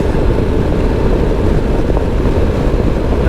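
Honda NC750X DCT motorcycle engine revving in sport mode, a loud, steady low rumble with heavy wind roar blending in throughout, no clear separate rev peaks.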